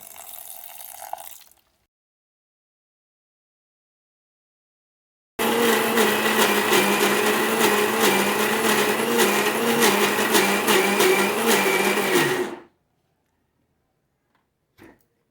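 An electric mixer grinder grinds rice with a little water, running loud and steady for about seven seconds after a long pause, then cutting off abruptly.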